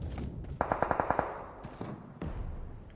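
A rapid burst of about seven gunshots in quick succession in a video game, followed by steady background noise and a couple of isolated thuds.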